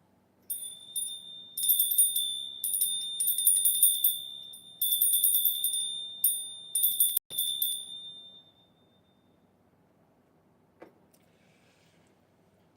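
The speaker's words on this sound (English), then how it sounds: "People are like, why do you ring the bell?" A small, bright bell is rung repeatedly in clustered bursts of ringing strikes during a live session, each ring sustaining briefly before the next, then it fades into near silence with only faint background sounds.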